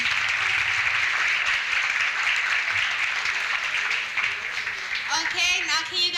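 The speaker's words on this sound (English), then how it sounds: "Can we all give him a round of applause?" Audience applause at a commemoration event, sustained clapping and cheering from a crowd, then a voice begins speaking over the fading claps near the end.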